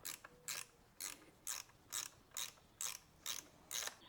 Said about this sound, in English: I'm also going to use an 8mm box wrench to take off the two bolts holding the rear master cylinder